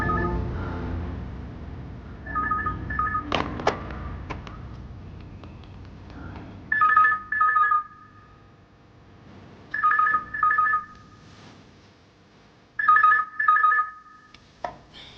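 Telephone ringing in a home, heard as repeated double bursts of electronic ringing at steady intervals after some earlier thumps and clatter, fairly close and clear.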